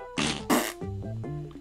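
A cartoonish farting sound effect from a Sago Mini video game: two loud, buzzy blasts followed by a few short, tonal, squeaky toots, close and clear.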